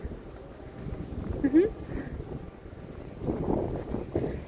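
Wind gusting outdoors in sun, a steady rough rumble that swells and fades over several seconds, with a voice talking beneath it.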